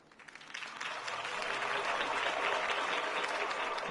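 Crowd applause for Harvey Dent's campaign speech in a Batman video game, starting with a few claps and quickly building into a steady, fairly faint wash of clapping that holds to the end.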